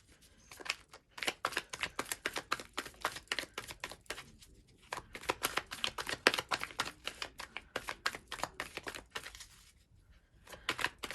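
Tarot cards are shuffled by hand, with close, crisp rapid riffling and flapping in several bursts separated by short quiet pauses.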